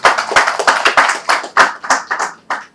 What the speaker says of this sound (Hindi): आप जोरदार तालियों से एक बार लक्ष्मण जी का स्वागत